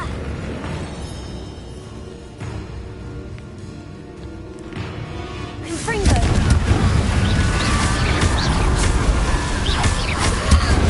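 Confringo explosion spell cast in Hogwarts Legacy against an Inferius, its loud blast hitting after a quieter stretch and leaving a dense crackling, rumbling roar that holds to the end.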